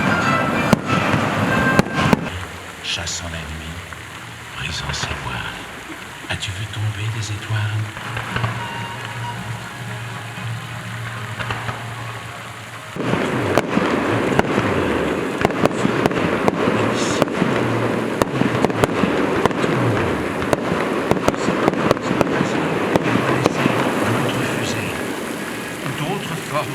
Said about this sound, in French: on vit partir 1000 fusées.